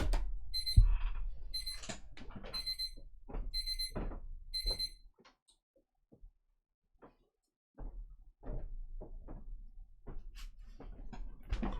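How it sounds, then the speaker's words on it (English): A bedside alarm clock rings in repeated bursts of bright electronic beeping, five quick clusters close by, then goes quiet before a voice talks intermittently. "Oh, that's my alarm going off."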